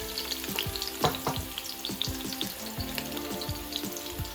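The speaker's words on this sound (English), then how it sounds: "So what you're gonna do now is to put your onion and the garlic" Onion and garlic sizzle steadily in olive oil, with a dense crackling hiss close by and repeated sharp clicks of stirring against the pan.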